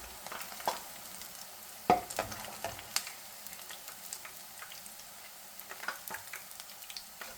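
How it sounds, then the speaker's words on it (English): Boondi batter frying in hot oil for a Sri Lankan-style colourful dessert, a quiet, steady crackle and sizzle with scattered sharper pops and a few louder bursts, no voices. "So what we're doing is we are quickly frying it."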